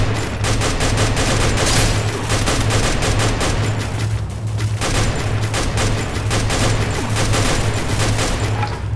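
Rapid gunfire from the shooter game Free Fire rattles on loudly in dense bursts over a steady low engine rumble, with a fast rhythmic crackle filling the whole stretch.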